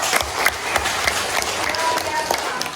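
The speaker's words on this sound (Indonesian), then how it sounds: "tepuk tangan dulu" A group of children in a classroom clap together at a teacher's prompt, quick scattered claps close by and moderately loud, with some voices mixed in.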